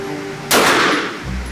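A single loud gunshot cracks out at an outdoor shooting range, a sharp broadband blast that rings and decays for under a second before a quieter background returns.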